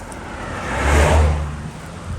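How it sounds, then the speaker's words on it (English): A car passes along a rural Georgia road at night, approaching and swelling to a peak mid-way before easing off, with a steady engine hum and tire whir. "There's a car coming."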